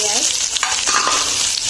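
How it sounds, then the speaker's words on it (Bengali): Onions frying in oil in a wok: a loud, close crackling sizzle with brief scraping stirs, lasting under two seconds. "আমি তেল আগে দিয়ে দিচ্ছি, দেবো পেঁয়াজ,"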